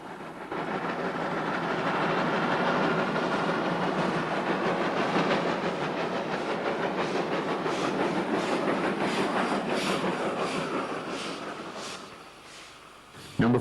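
A Beyer Peacock steam locomotive built between 1945 and 1947, fitted with an extended chimney spark arrestor, rolls past loudly with a steady rumble and rhythmic wheel clatter that fades near the end.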